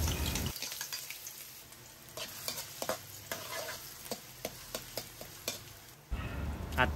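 Onion frying in hot oil in a wok-style pan, a loud crackling sizzle at the start and end with a run of sharp stirring taps and scrapes between, close and without talk.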